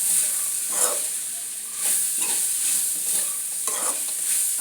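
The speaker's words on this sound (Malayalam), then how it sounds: "അത് ഇളക്കി കൊടുക്കുന്നുണ്ട്" Pork being stirred with dried, ground kanthari chilli and spices in a hot pan, a steady sizzle broken by several scraping strokes of the spoon at an irregular pace, close and clear with no talking.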